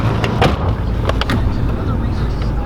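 A Camaro IROC-Z engine running after repairs, loud steady rumble close by with a few sharper bursts, and a voice talking over it.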